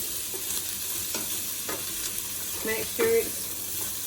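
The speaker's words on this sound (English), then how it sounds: "we've got our celery in there, the onion, carrots and garlic. We're just going to give that a nice stir around" Celery, onion, carrots and garlic are stirred around in oil in a pan, giving a soft, quiet sizzle with a few scraping strokes, and brief talk is heard.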